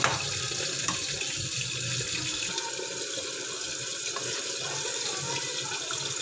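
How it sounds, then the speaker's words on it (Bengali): Boiled hot water poured into a pan of cooked-down masala for a Bengali pabda fish curry, a steady close splashing rush that runs the whole time with no talk. "জল দিয়ে দিচ্ছি ফোটানো।"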